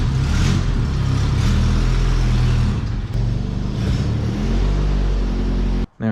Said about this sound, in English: let her sit there and idle and warm up